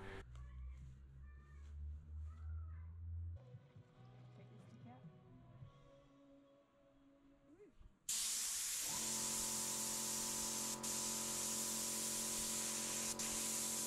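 Spray gun applying black paint to Land Cruiser 80 Series parts hung at chest height, a loud steady hiss that starts abruptly partway through, preceded by quieter handling noises and talk.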